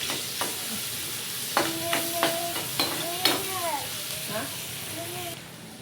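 Chopped onion fries in a pan and a spoon stirs it, so a steady sizzle runs under scraping clicks. A voice talks and calls out several times over the cooking.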